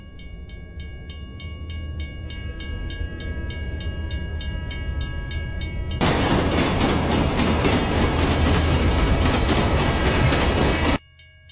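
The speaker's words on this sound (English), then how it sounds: "I could hear the train getting louder and louder" A train draws closer with rattling wheels and rising rumble, then a long, loud horn blast cuts in for several seconds before stopping abruptly, with no voices.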